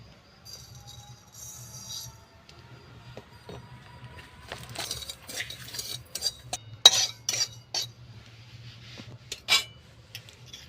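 Fennel seeds and cardamom are crushed for tea, heard as sparse, close metallic knocks and scrapes, some sharper, over a faint low hum, with no talk.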